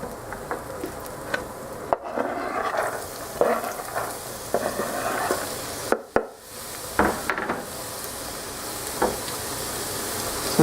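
Celery frying in olive oil in a pan of spaghetti sauce base, giving a steady close sizzle broken by stirring scrapes and clatter, with no talking.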